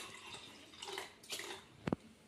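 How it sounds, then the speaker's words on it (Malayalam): Cold water splashes and trickles into a mixer jar in short bursts, ending with a brief sharp splash; quiet and close. "ഇതിനകത്തേക്ക് നമ്മളിത്തിരി തണുത്ത വെള്ളം ഒഴിച്ചു കൊടുക്കുക"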